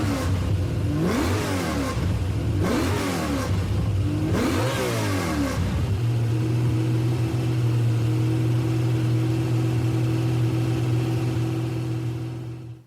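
A BMW M3 E46 fitted with a BMW Racing V8 from a Group 3 Z4 revs hard in Gran Turismo 7, three rising and falling blips followed by a loud, steady high idle drone that holds until the end, close and with no talk.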